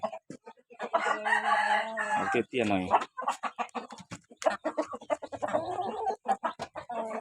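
Burmese game chickens cluck and call at an evening feeding, the bird sounds coming in short bursts mixed with a man's close, frequent speech.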